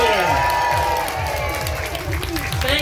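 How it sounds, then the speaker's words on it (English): A family crowd in a children's story tent at the Camp Bestival festival cheers and applauds. The clapping and whooping are continuous, and a voice carries over the noise. "A huge cheer for Alfie!"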